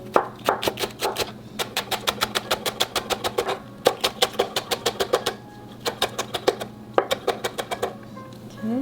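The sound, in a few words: knife slicing green onion stalk finely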